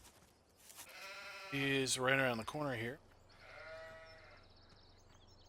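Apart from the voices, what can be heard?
sheep bleating in video game Farming Simulator 17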